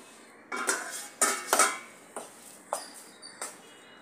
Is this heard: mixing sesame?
yes